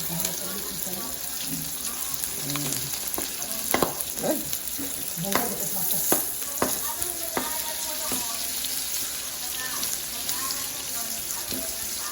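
Garlic fries in hot oil in a pan, giving a steady bright sizzle with scattered stirring scrapes and clinks throughout, close and continuous.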